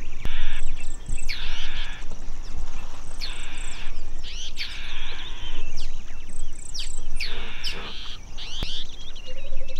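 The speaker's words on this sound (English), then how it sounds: "you can hear all the alarm calls going off." Repeated bird alarm calls warning of lions ring out in Tsavo East, Kenya, over a steady outdoor background of insects and rustling, coming in bursts every second or two.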